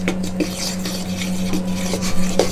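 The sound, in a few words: mixing apple crumble topping with a fork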